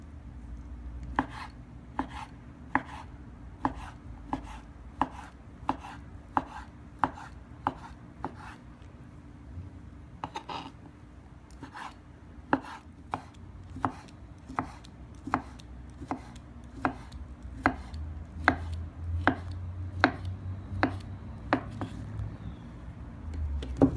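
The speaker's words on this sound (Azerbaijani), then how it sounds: "Kökü də alma kimi. Almanı doğradığım kimi doğrayırım." Carrot chopped with a knife on a board, a steady run of crisp, regular cuts close up over a low background hum, with no voices.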